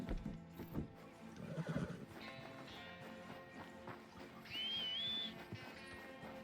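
A horse in Red Dead Redemption II neighs with a loud, clear whinny near the start, while soft game music and hoofbeat-like clops continue and a thin whistling tone rises later.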